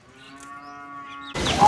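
A Jersey heifer calf gives a single drawn-out, steady moo with clear tonal harmonics, close by, followed by a sudden burst of louder rustling noise near the end.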